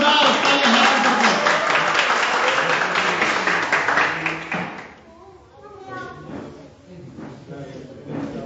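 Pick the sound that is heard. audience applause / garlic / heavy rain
audience applause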